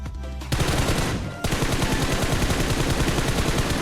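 Rapid automatic gunfire from a shooter video game fires at an enemy in dense, repeated bursts, loud and close, with a brief drop after the first half-second before the volley resumes.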